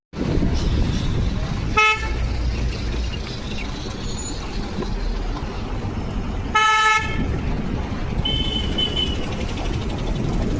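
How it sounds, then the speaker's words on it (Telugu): Car and bus horns toot in short blasts, two loud honks standing out from a steady roar of idling and creeping vehicles in a jammed traffic stretch of Secunderabad Cantonment road. "ఎటు చూసినా హారన్ మోతలు, నిలిచిపోయిన ట్రాఫిక్తో వాహనదారులు చుక్కలు చూశారు"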